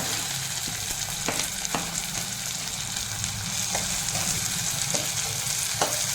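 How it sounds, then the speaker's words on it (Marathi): Onion and tomato with a little coriander sauté in a pan for a Malvani-style egg masala, giving a steady moderate sizzle with brief spatula scrapes and ticks at irregular intervals, close and without talk. "कांदा आणि टोमॅटो इथे होईपर्यंत परतून घ्यायचा"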